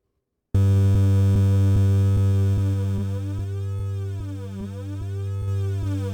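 A steady droning synth tone swept by a flanger effect on a Boss RC-505 MK2 loop station, with a whooshing, jet-like sweep rising and falling over a ticking pulse, loud and alone.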